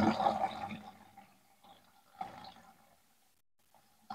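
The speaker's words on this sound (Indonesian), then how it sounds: "ini kondisi airnya keluar dari bawah" Water from a rusty, yellow-water supply pours out of the bottom of an opened water filter housing during cleaning, with a short gushing burst that quickly thins to faint trickling and a few splashes.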